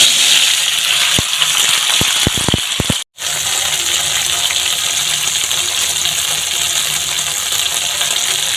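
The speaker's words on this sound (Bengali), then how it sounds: "ঢ্যাঁড়সগুলো এবারে হালকা করে একটু ভেজে নিচ্ছে, ভেজে তুলে নেব।" Okra fries lightly in oil in a pan with a loud, continuous hissing sizzle. A few small clinks sound early on, the noise cuts out briefly, then the sizzling carries on steadily.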